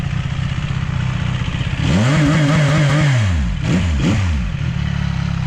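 A three-cylinder CFMOTO 675NK motorcycle engine idles in a showroom, then revs sharply a few times with rising and falling pitch before settling back to a steady idle. Loud and close.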